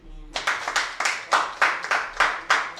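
Congregation clapping in church, a bright steady rhythm of claps in quick bursts roughly every quarter second, fairly loud and close, starting after a brief quiet moment with no voices over it.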